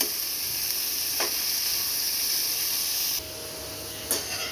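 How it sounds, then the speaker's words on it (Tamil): Finely chopped carrot, capsicum and beans fry in a pan for vegetable fried rice, giving a continuous loud sizzling hiss with occasional stirring scrapes and a brief change in tone partway through. "இப்போ இந்த வெஜ்ஜீஸ் எல்லாத்தையுமே நல்லா ஃப்ரை பண்ணிக்கலாம்"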